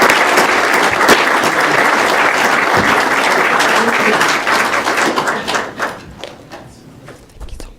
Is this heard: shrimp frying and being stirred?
no